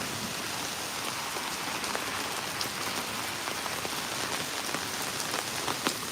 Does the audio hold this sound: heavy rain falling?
yes